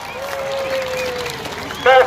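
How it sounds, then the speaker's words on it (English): A crowd applauds at a live monster truck and tuff truck show, with a steady wash of clapping under a voice that carries a long sustained tone, ending in a brief louder burst. "Let's give a round of applause."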